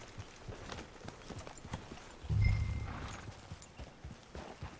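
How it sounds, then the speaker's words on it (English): In Red Dead Redemption 2, a white horse's hooves clip-clop at an easy walking pace, with a short snort partway through, over faint background ambience. "Damn, Dutch's horse is a beauty"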